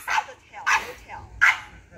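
A friendly female dog with no tail barks three times at close range, evenly spaced barks in a short burst with no other sound around them.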